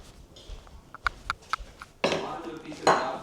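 A pot being scrubbed and washed with soap while cooking mushroom biryani: light clinks and taps of metal, then louder rough scrubbing and rinsing splashes, close by, with talking partly over it.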